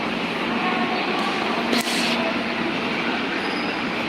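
A train rumbles steadily past with a broad, constant roar and a brief sharp burst of higher noise near the middle; no voices.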